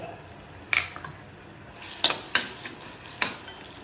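A cooking pot and metal utensils clatter in a home kitchen, with four sharp clinks and knocks spaced irregularly over a quiet background, close by and with no talking.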